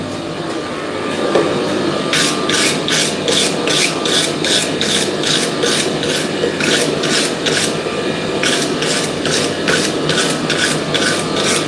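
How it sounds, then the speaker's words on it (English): A block brush scrubs a welded Damascus steel billet in a blacksmith's shop, a close, loud rasping that repeats in steady rhythmic strokes over a constant background hum, with no talking. "I'm just going to give it a quick scrub with the block brush."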